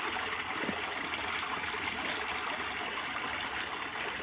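Water trickles steadily through a shallow woodland stream, a constant close babbling wash with no voices.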